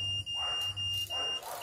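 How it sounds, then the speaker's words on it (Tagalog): A satellite TV dish signal meter gives a steady, shrill electronic beep, close and loud, with short dips in tone across its brief span. "Pag nag-beep, okay na."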